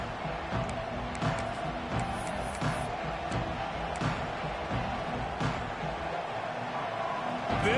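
A large stadium crowd roars steadily in the College Football 26 game at Tennessee, a dense distant wash of cheering and noise that stays even throughout without clear peaks.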